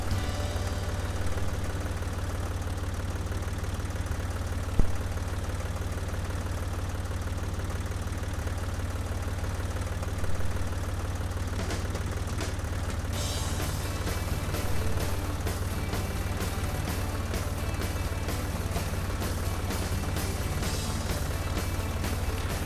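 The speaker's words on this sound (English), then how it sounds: "And there we go, we're plowing." Tractor engine in the farming game Professional Farmer 2014, droning low and steady while plowing a field, with a single sharp knock early on and rattling mechanical noise building in the second half.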